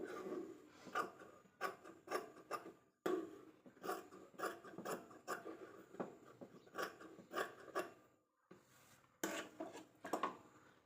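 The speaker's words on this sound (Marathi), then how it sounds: "आता एक्स्ट्राचं फॅब्रिक मी कट करून घेत आहे" Scissors snip away excess fabric close by, a quiet run of short crisp cutting and rustling bursts with brief pauses between strokes.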